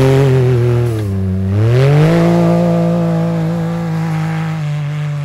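A 2021 Ford F150 Limited pickup revs through an RJWC aftermarket exhaust, a loud close deep drone that dips and then climbs as the throttle rises and holds steady, with no talking.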